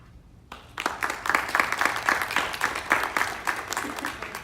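A school board candidates' forum audience applauds after the moderator is introduced. The clapping starts abruptly after a brief quiet and continues as a moderate, fairly sparse patter of many hands that gradually thins.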